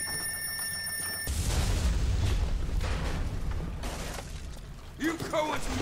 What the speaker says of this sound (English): That's gonna be an explosion.